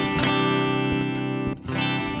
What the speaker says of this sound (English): and now we got some reverb.